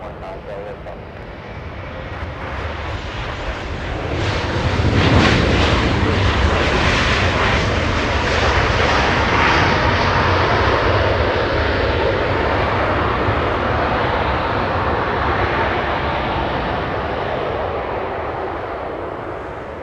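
A French Bee widebody airliner taxis at LAX, its engine noise rising into a loud, close rumble that peaks early and then eases slowly, with voices talking over it.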